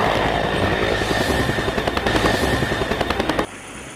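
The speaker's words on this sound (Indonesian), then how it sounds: "kita terbangkan helikopternya" Toy helicopter with built-in sound effects running close by, a loud rapid chopping rotor rattle with rhythmic pulses, cutting off abruptly near the end; no speech.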